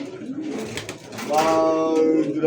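A breeding pair of domestic pigeons at a market, with near, resonant cooing that swells into a sustained throaty coo in the second half, amid light background murmur.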